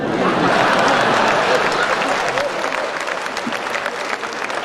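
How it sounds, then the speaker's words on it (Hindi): Audience applause during a live Hindi comic poetry recital, a thick burst of many clapping hands that starts loud and gradually tapers, with a faint voice near the end. "तालियां बजाइए"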